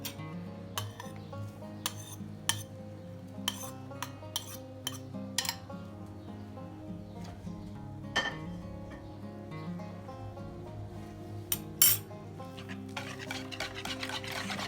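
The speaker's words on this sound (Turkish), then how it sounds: "Bunu da karıştıralım." A spoon stirs lemon cake batter with grated lemon zest in a bowl, making a steady series of close clinks and scrapes against the bowl over a soft, continuous background tone.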